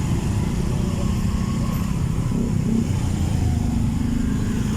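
Motorcycles run steadily along a bicycle lane in traffic. Their engines make a loud, continuous low drone with no clear pass-by peaks, and a faint murmur of voices sits underneath.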